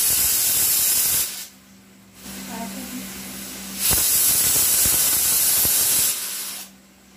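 A home pressure cooker whistling as it vents steam, with loud hissing bursts that start and stop and come back several times, separated by quieter stretches of kitchen noise.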